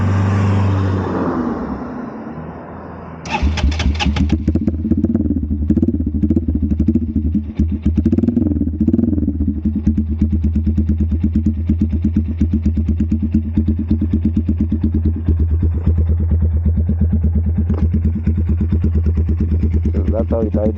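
A Taro GP One motorcycle starts up, then its engine settles into a loud, steady idle with a low rumbling throb that holds for about seventeen seconds.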